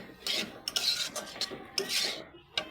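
Ghugni, a curry of boiled peas and potatoes, is stirred in a pan with a few close, loud scraping strokes of a spoon against the metal, separated by brief pauses.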